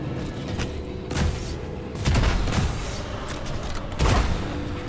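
Enemy gunfire in the video game Immortal Unchained: repeated loud bursts and booming shots over a continuous rumbling game background, with heavier blasts around the middle and end.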